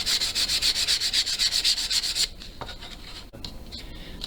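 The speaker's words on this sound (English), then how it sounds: "take your 220 grit sandpaper and" Wood being sanded by hand with 220 grit sandpaper while building a bowed lyre kit: a fast, even run of rhythmic rasping strokes that then breaks into slower, irregular rubbing, close and clear.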